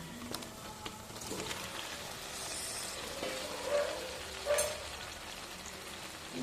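Spice paste frying in a pan as fried pointed gourd and potato pieces go in, a steady close sizzle and hiss with two brief louder swells near the end.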